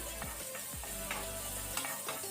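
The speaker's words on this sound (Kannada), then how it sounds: "ಆನಂತರ ಗಾರ್ಲಿಕ್ ಬೆಳ್ಳುಳ್ಳಿ, ಅದನ್ನು ಸ್ವಲ್ಪ ಲೈಟ್ ಕೆಂಪಾಗೋ ತನಕ ಫ್ರೈ ಮಾಡ್ಕೊಳ್ಳಿ" Garlic frying in a pan over low flame for sweet corn masala gives a steady close sizzle with brief spatula stirs and scrapes, no voices.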